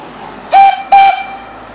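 Steam whistle on a Forrest steam boiler gives two short, loud, tonal blasts in quick succession, each about a quarter second, cutting sharply through a quiet background.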